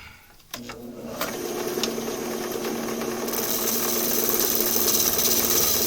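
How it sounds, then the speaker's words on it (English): Wood spins on a lathe as a tool peels off clean shavings, a steady whirring, rasping drone that builds after a sharp start and holds close and continuous. "This is one of my favorite sounds of wood turning."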